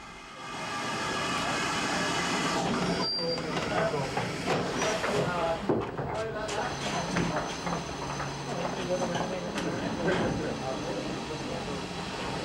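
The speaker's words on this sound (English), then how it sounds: "The vacuum brake scavenger pump fitted to GWR engines can be heard spitting as the engine" GWR steam locomotive 3440 City of Truro pulls into a station platform, its vacuum brake scavenger pump spitting in irregular bursts over steady steam hiss and the rumble of the moving engine.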